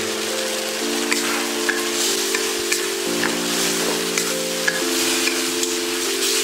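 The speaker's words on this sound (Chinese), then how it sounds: "大火慢炒收汁" Tofu and tomatoes being stir-fried over high heat while the sauce thickens sizzle continuously and loudly, with faint scraping stirs, under steady background music and no talk.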